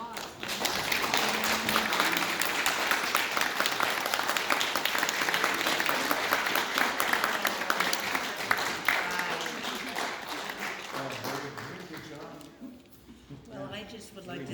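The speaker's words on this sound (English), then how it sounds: "So if I could ask for a round of applause." Audience applause at a museum tribute event, a crowd clapping steadily for around ten seconds before thinning out and fading, with faint voices underneath.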